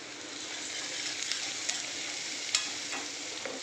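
Onions and green chillies frying in a pan with turmeric for puri bhaji: a steady, close sizzle and crackle with a few sharper pops and spoon scrapes, and no voices.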